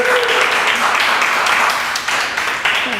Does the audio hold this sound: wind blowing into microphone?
no